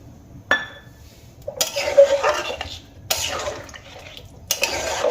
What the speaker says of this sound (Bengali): সেই কারণে আমি আরও সামান্য জল এর মধ্যে অ্যাড করব